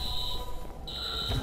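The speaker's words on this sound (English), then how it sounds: "Alarm's been tripped." A tripped security alarm in the Watch Dogs video game, a steady high-pitched electronic tone that cuts out briefly partway through and then resumes, sounding moderately loud over low background rumble.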